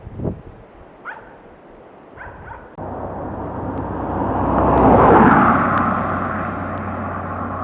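A dog barks and yips a few times, close and sharp, before a loud aircraft rumble sets in, swells to a peak and lingers.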